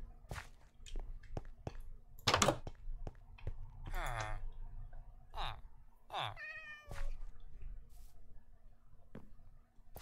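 Cats in the video game Minecraft meow several times in short, separate calls, one drawn out and wavering, with someone talking in German between them.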